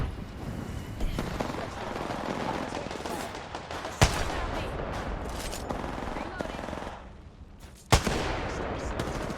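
Gunfire rumbles through an Apex Legends match, with two sharp, heavy Kraber sniper rifle shots standing out above a dense, continuous bed of game noise and battle sounds.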